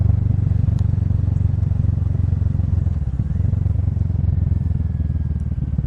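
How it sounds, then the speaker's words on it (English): A Kawasaki Z650 motorcycle engine-brakes down a hill with the throttle closed, a loud, steady low engine drone close to the rider, accompanied by rushing wind and light mechanical clatter throughout. "I'm not using the hand or foot brake at all, I'm just engine braking down the hill."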